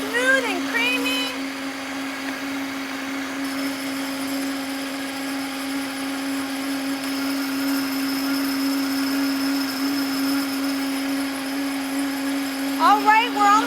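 A countertop blender whirs steadily, blending a thick carrot cake smoothie until it turns creamy; a continuous motor hum runs close and loud, with brief clatter at the start and end.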